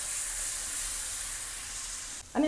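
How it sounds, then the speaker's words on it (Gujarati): Tomato pulp sizzles in hot oil with spices on a low gas flame for a Gujarati moong vadi curry: a steady, soft hiss throughout, with a sharper, louder burst of sizzle right at the end. "તો ટમેટાનો પલ્પ એડ કરી દઈશું."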